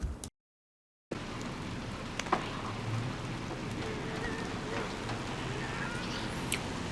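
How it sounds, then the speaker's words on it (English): Steady rain in the video game Little Nightmares 2 patters continuously, with a brief dropout near the start and scattered drip-like clicks over the even hiss, no talk. "let's get up out this rain"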